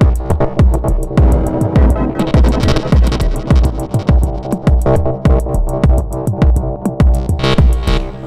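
A full remixed pattern from an Elektron Digitakt drum machine pounds loud and dense, with punchy kicks and snappy hits on a steady beat over sustained synth tones.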